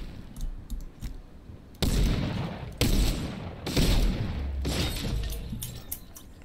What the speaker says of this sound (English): the recoil is so bad on this gun